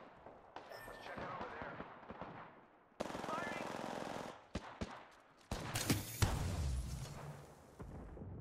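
Gunfire in the Apex Legends battle royale game, bursts of rapid automatic shots in separate loud blocks with brief gaps and sharp cracks near the end.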